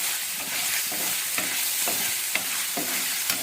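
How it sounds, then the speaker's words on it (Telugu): Paneer pieces roasting in two tablespoons of ghee in a pan on the stove: a soft steady sizzle punctuated by several distinct spatula scrapes and taps against the pan, close and with no voices. "స్టవ్ లో ఫ్లేమ్లో పెట్టి ఇలా కొంచెం రోస్ట్ చేసుకుంటే"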